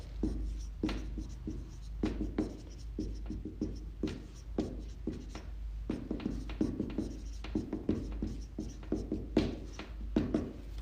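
A math step is written out by hand, with close, quiet scratchy strokes and taps of the pen in short, irregular bursts over a low steady hum.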